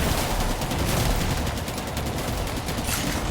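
An upgraded turret cannon in the Rebel Moon film fires in a rapid, loud barrage of closely spaced blasts that continues without a break.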